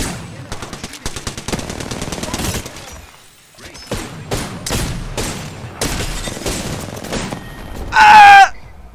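Gunfire in the video game Apex Legends comes as rapid, rattling automatic bursts and single shots in quick clusters, loud and close, with short pauses and a sharp ringing impact near the end.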